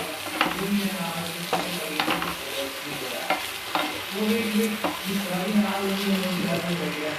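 Okra stir-fry being tossed with chaat masala and garam masala in a pan: repeated close scraping stirs over a continuous sizzle, steady and fairly loud.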